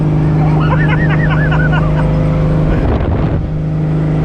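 Vintage boat's outboard motor held wide open at full throttle, a loud steady drone with a constant hum, a brief warble near the end, heard close up.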